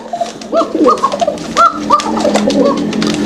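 Fancy pigeons cooing at a pigeon farm, several rounded, throaty coos overlapping in quick succession, close and fairly loud over faint background noise.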